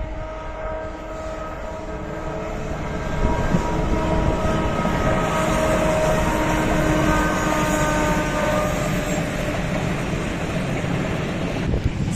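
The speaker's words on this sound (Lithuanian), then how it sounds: "Traukinys." A train passing near Porto, a sustained low rumble with droning tonal hum that swells louder midway and holds steady, close and continuous with no voices.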